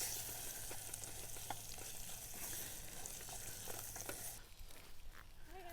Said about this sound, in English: Let's get this pork in.